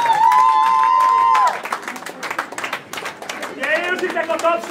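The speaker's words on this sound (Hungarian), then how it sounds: "Érzitek a tapsot, nagyon finom volt a kaja." Wedding guests clap at a Hungarian reception, sharp hand claps breaking in after a sustained sung or played tone, with voices and music mingling with the claps.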